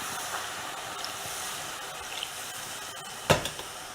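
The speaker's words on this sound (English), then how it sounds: "And now I'm going to just simply cover the potatoes with water" Water is poured over sweet potatoes in a cooking pot for a curry, giving a steady, close rush of running water with a brief louder splash near the end.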